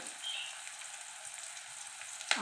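Onion, garlic and ginger fry in hot oil in a pan, giving a quiet, even sizzle with faint crackles and a small clink near the end.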